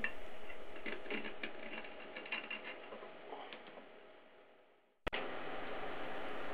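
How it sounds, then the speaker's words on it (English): A steady, gritty scraping and whirring as a 22mm glass tube for a triode envelope is scored all the way around while rotating, with faint ticking, then a sharp click before the hum resumes. "a 22mm tube is scored all the way around"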